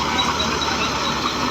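A 2000-model Massey 240 tractor drives a mustard-crop thresher in a farm field, producing a steady, dense mechanical roar with a faint squeal on top and no pauses.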